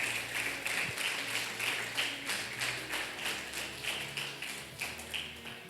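Church congregation applauding at a Sunday service, a steady wash of many hands clapping with rhythmic bursts throughout, fairly loud and continuous.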